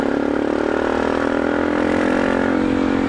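A Yamaha Ténéré 250 motorcycle engine runs steadily on a night ride, a continuous mid-pitched drone with a slight rise in revs, heard up close with no talking.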